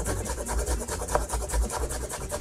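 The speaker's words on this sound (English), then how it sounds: "I'm also gonna grate up some fresh ginger." Fresh ginger is rubbed against a grater in quick, even strokes, a close, dry rasping rhythm heard alone without any voices.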